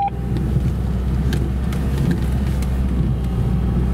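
Off-road vehicles move forward in a convoy on a dirt track toward a spring, making a steady low engine rumble close by with faint knocks and clatter over it.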